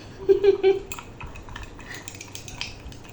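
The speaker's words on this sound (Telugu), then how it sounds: "ఈ రెండు నిమ్మకాయల రసంలో పంచదార వేసేసుకొని బాగా మిక్స్ చేసేసుకుంటున్నాను" Sugar being stirred into fresh lemon juice from two lemons, a spoon clinking against the cup in a quick cluster of bright taps early on, then softer intermittent scraping and ticks, close and moderately loud with no talking.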